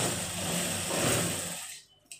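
A sewing machine runs steadily while stitching a salwar hem close beside the buckram, a continuous close whir that cuts off near the end, followed by a brief click.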